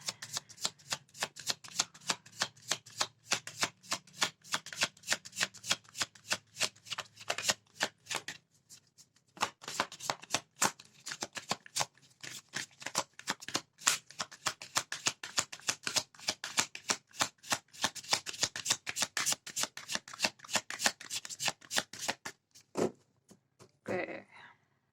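Tarot cards are shuffled in a steady stream of quick papery riffles and slaps, close and crisp, with brief pauses between bursts and a soft voice in the background.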